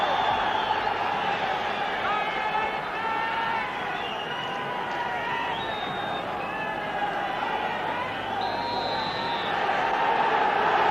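Large football crowd at Tannadice for Dundee United versus Rapid Vienna, a European Cup quarter-final second leg, roaring steadily with loud massed voices and occasional rising whistles and calls throughout, no commentary over it.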